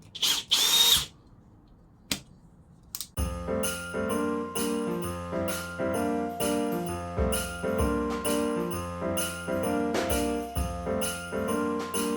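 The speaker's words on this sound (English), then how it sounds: "you start off here and just drill holes" A power drill whirs loudly in repeated bursts, boring holes through old plywood with a rhythmic grinding hum, after a brief scrape and a few knocks.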